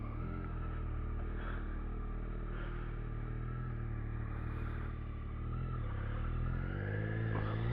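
A Yamaha R9 motorcycle ridden home on the road gives a steady engine drone with wind rush, holding constant through gear changes and a brief dip in throttle.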